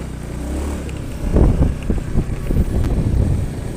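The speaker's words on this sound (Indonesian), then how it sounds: "Ini saya ulangi lagi, ini saya tarik gas." A Honda Scoopy scooter engine with a cold-start stuttering fault is revved by hand throttle, rising from idle into uneven, sputtering bursts that hesitate and surge over a few seconds, close and fairly loud with no talking.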